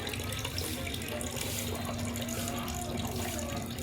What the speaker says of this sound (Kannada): ಒಂದು ಸಲ ನೀರು ಚೆಲ್ಲಿ ಮತ್ತೊಂದು ಸಲ ನೀರು ಹಾಕಿ ಇಟ್ಬಿಡ್ತೀನಿ